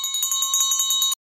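A small bell rings in a rapid, even trill of bright metallic strikes for about a second, then stops abruptly.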